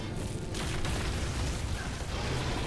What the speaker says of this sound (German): Boah, die Explosionen sind einfach geil.